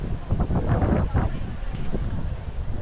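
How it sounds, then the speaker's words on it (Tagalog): Strong gusts on Boracay's beach buffet the microphone in a steady, loud roar with deep rumbling surges, broken partway by a few voices talking over it. "Medyo malakas din yung hangin."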